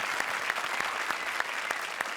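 Audience applause, a dense patter of many hands clapping steadily for a couple of seconds, no voices.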